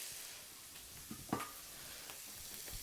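Tempeh browning in a frying pan, a soft steady sizzle at low level with a few brief clinks and stirring scrapes, no voices.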